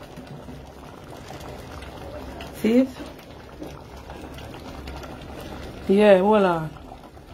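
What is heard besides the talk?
curry with pig's tail boiling in a pot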